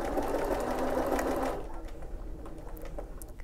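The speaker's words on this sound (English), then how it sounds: "you can put your foot down on the foot pedal and just sew" A domestic sewing machine runs steadily under a foot pedal, stitching tricky fabric in one continuous burst, then stops and leaves quiet room tone with light handling.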